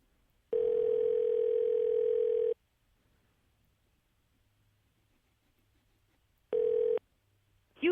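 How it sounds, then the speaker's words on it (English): Telephone ringback tone while placing a call to a Sprint voicemail line: a long steady tone lasting about two seconds, a pause, then a shorter burst and the start of another. "We will be calling Will."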